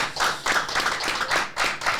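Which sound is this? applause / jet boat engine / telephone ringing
applause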